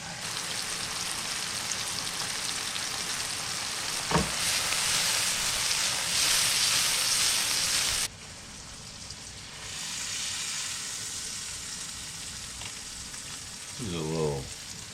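Cheesesteak ingredients fry in a buttered pan with a steady, close sizzle that crackles throughout, briefly louder and then softer partway through, with a few clinks and a short voiced sound near the end.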